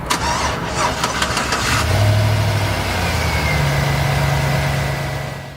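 A truck engine started with a Little Lightning Ultra Slim lithium battery power pack: a brief cranking whir, then it catches and settles into a loud, steady low idle, close by.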